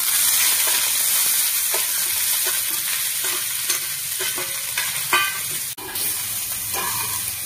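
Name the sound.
soybean chunks frying in hot oil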